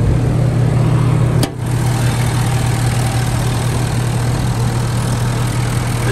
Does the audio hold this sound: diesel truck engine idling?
yes